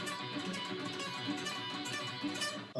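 An electric guitar runs a fast sweep-picked metal lick across three strings, with notes rippling in quick repeated arpeggio rolls at a moderate, fairly quiet level and no voice over it.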